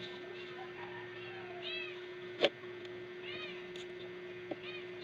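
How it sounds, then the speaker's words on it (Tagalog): Domestic cats mewing at mealtime in a Filipino home, several short rising meows spread through the clip over a steady background hum, with a sharp knock partway through. "Magtatawag na yung mga pusa ko."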